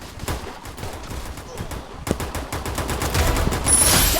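Rapid gunfire in the mobile battle royale game Free Fire comes as close, loud repeated bursts that keep going through the whole stretch, with talk underneath.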